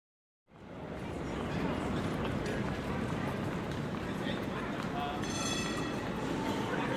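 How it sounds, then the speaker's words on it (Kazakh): A city tram passes with a continuous rolling rumble and rattle. It swells in after a short silence and holds steady and fairly loud to the end, with a faint high squeal near the close. "бұл трамвай"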